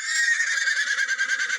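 People vocally imitating a revving car engine, their shrill, wavering voices rising and pulsing in a way that sounds almost like a whinnying horse, brief and close.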